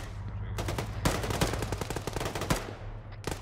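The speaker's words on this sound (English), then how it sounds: "Just see incoming fire." Rapid machine-gun bursts in the Arma 3 battlefield video game, with loud, dense volleys of shots over a steady low drone and a few separate sharp cracks standing out.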